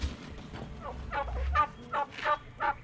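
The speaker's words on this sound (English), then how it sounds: "Uh-oh, here's this turkey here." A turkey in a barnyard gives a run of gobbling calls, several rapid warbling bursts close by, with quieter farmyard noise underneath.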